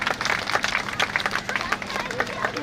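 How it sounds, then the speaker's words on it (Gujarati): An audience at a community gathering in Adesar, Kutch applauds to welcome a guest, with dense clapping under crowd murmur and a voice speaking over it. "જોરદાર તાળીઓથી વધાવશો આપણે."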